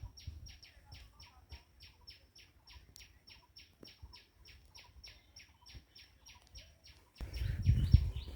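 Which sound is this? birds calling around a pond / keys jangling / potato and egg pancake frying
birds calling around a pond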